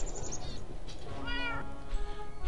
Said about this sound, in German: Och, die Babykatze will was zu futtern haben.